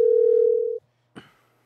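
A telephone dial tone holds steady and loud for most of a second as a phone call is being connected, then cuts off, followed by a short click or pickup noise.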